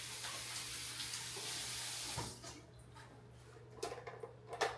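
Water from a kitchen tap runs steadily while limes are rinsed for pico de gallo, a soft continuous splash that cuts off partway, followed by faint clicks and handling noises.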